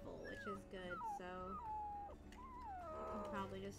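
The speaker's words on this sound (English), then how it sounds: "I hear a lot of wolves howling over there." Several wolves howl together in the video game WolfQuest, overlapping long gliding calls mixed with yips and whimpers, moderately close, with no talking over them.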